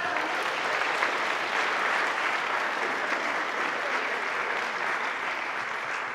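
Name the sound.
applause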